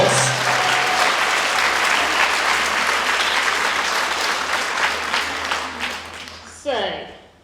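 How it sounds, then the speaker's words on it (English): Loud, dense applause from an audience at a women's festival event, filling the room steadily with a few cheers and voices rising near the end as it fades. "Give yourselves a round of applause."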